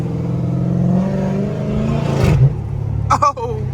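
A Mopar car's engine revs through gear shifts on a drive, a steady rumbling drone that builds and then breaks with a sharp shift clatter, heard close while someone talks over it.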